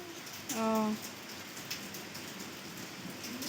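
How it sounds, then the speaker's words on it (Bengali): Rain falling outside a house with a gated veranda: a soft, steady hiss of drops, faint and distant, with one brief tonal call rising near the start and no talk. "বৃষ্টি পড়ছে বাইরে"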